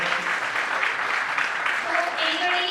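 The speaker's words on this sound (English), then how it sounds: "please give a huge round of applause for him" An audience at a DevFest tech conference claps steadily for a speaker, a dense, even wash of applause with a voice faintly audible over the latter part.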